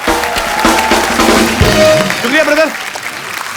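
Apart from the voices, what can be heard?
audience applause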